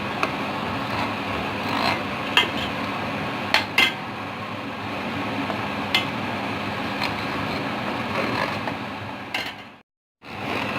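A spoon stirring and scraping the roux-based sauce for blanquette de veau in a metal pot, steady soft rubbing with occasional clinks of utensil against the pot, close and continuous without speech.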